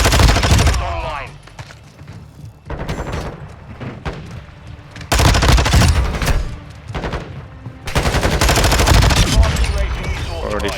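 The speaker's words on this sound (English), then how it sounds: "Already shooting at me before I've even left." Call of Duty Modern Warfare 2 online match with repeated bursts of rapid automatic gunfire, loud and close, broken by short quieter gaps, while a player talks over the shooting.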